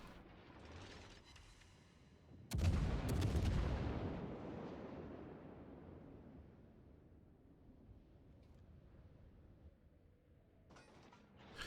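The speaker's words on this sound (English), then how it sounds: "the opposing battleships here, both the Musashi as well as the De Gaulle, are firing on the Tirpitz" A heavy battleship salvo booms in a naval battle game, a sudden loud blast at about two and a half seconds that rolls off into a long fading rumble, with fainter gunfire thuds before it and another at the end.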